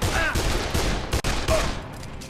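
Rapid gunfire from the video game Dead Island, loud and dense bursts of shots filling the clip with a brief gap midway, no talk over it.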